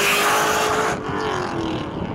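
Ford Mustang engine roars loudly and close during hard acceleration, a dense throaty rush that eases slightly after the first second and keeps rumbling; no talking over it.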